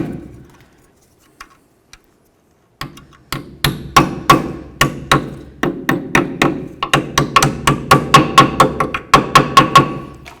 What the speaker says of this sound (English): you can use a small hammer and just help it along